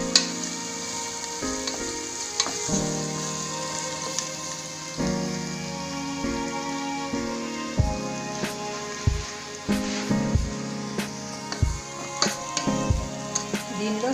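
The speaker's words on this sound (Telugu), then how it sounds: "దీనిలో సన్నగా తరిగించుకున్న 2 పెద్ద ఉల్లిపాయలు వేసుకొని ఇది కూడా కొంచెం వేగనిద్దాము." Thinly sliced onions fry in masala in a pan, giving a steady close sizzle with scattered crackles and light stirring clatter throughout.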